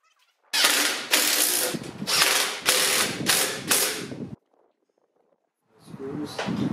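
Ratchet wrench spinning nuts onto the water pump of a 2004 Sprinter van: several quick bursts of loud, close clicking in a row, then a brief pause before another burst.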